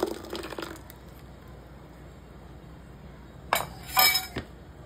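Ground coconut blended with water is strained through a sieve for coconut milk in a home kitchen. A faint liquid trickle is followed by a few sharp metallic clinks of utensils toward the end, with no talking.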